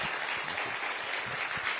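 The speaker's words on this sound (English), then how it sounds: "So I want to please give Frank a huge round of applause." A lecture audience applauds, a dense wash of steady clapping from many hands, close and continuous with no voices over it.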